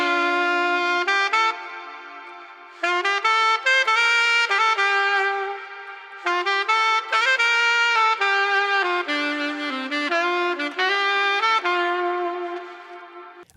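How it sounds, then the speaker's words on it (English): A bright reed instrument resembling a saxophone plays phrased melodic lines with short pauses between bursts, clear and close, no other instruments beneath. "Here's an example where I used a sax sample."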